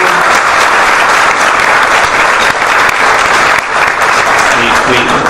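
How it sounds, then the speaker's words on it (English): Loud, sustained applause fills the room at a national security dinner as guests clap for the event staff, a thick continuous wash of hands with faint crowd voices mixed in. "Luisa Del Rosal and June Hume, please give them a round of applause for all they do"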